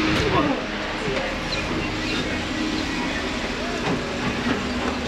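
A passenger train between Phnom Penh and Battambang, Cambodia rolls toward a stop, with a steady rumble, faint squeals and hiss, as a voice speaks quietly over it.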